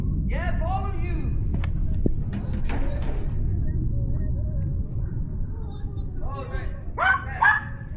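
A dog barks and yips outdoors at a swimming pool dig site in several short bursts, some near and some farther off, over a steady background rumble.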